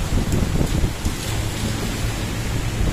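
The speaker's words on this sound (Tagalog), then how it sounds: "Ay, nakikita mo yun, ulan?" Heavy rain pours down with gusting wind in a storm, a dense, loud, steady roar of rainfall and buffeting air with deep low rumble throughout, no voices.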